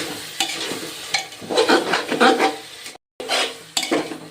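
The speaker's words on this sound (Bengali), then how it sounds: "তো আলু আর চর্বিটা দিয়ে আর একটু কষিয়ে নেবো ভালো করে" Potatoes and mutton fat stir-fried in a pot for mutton curry: loud, busy scraping and clattering of a spatula against metal over a frying sizzle, with a brief gap and no talking.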